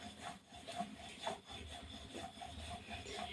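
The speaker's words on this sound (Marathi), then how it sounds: "चपाती लाटून घ्यायची." Chapati dough rolled out with a rolling pin on a board, giving repeated soft rubbing, wooden strokes in a steady back-and-forth rhythm, close and fairly quiet.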